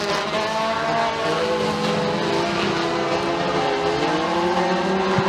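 Sprint cars race three wide around the dirt oval at McKean County Raceway, several engines roaring together in a continuous loud drone with shifting pitches as the pack sweeps through the turn.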